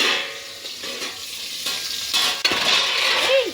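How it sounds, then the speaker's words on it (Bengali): Potato pieces fry in hot oil in a pan for a spicy chicken dish, a steady loud sizzle with occasional scrapes and clinks of a stirring spoon against the pan. "আলুটা সুন্দর করে ভেজে নিচ্ছি তেলে"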